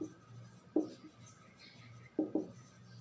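Chalk or marker scratches across a board in short strokes, two brief bursts separated by quiet, faint and close, as a chemical structure is drawn.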